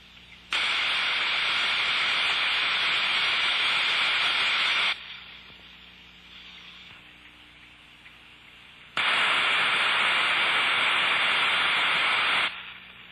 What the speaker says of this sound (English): The disc trap is an intermittent trap with a distinctive sound pattern of opening and closing.